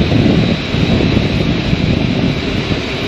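Loud industrial noise from a large factory, a dense continuous roar with broad rumble that holds steady throughout, close and overwhelming, with no voices.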